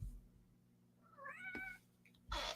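A pet cat meows indoors, a single rising and falling cry close by and fairly clear against a quiet room hum, followed by a brief rustling noise.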